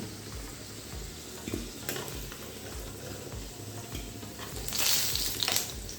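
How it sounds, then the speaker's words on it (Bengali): New potatoes frying in oil in a pan, a steady close-up sizzle with occasional stirring scrapes and a louder hiss near the end. "এখন এই আলুগুলো একটু ভালো করে ভেজে নিতে হবে"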